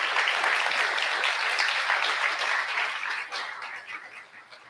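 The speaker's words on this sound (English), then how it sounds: "Please help me give a round of applause to our selection committee." An audience at a school education festival applauding the selection committee, a dense sustained clapping from a crowd that holds steady, then tapers off toward the end.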